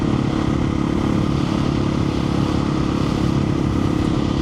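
A KTM 500 EXC-F dirt bike engine hums steadily while cruising a country road, a constant close drone with wind noise and no changes in revs, with no voices.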